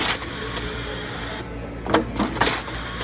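An Autobag 500 bagging machine runs with a steady mechanical hum, with a few short clicks and whirring bursts near the end, heard alone without talk.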